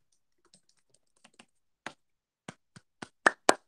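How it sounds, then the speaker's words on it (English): Close keystrokes on a computer keyboard while typing a chat announcement, starting as a few faint light taps and building into louder, heavier clacks toward the end, with no talking. "I'm going to type it in the chat to let you know the good news"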